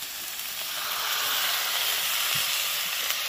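A little water hits spices, cumin paste among them, sautéing in a pan, bringing a soft, steady hiss and sizzle that rises slightly and then holds with no talk.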